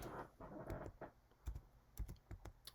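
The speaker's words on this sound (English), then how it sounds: "I'm just typing in the numbers. I'm using tab to move across here." Fingers tapping the keys of a TI-Nspire calculator while entering matrix coefficients, a quick, irregular series of close, soft clicks over a quiet background.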